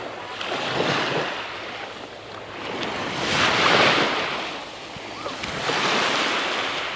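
Waves wash onto a tropical island beach in Thailand, a steady surf hiss that swells and recedes in slow surges, with some wind noise on the microphone.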